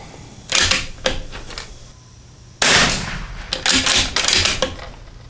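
Bergara B-14R precision rifle shots ring out with sharp cracks, a few quick reports early, a pause, then a louder cluster of shots with ringing decay, fairly close.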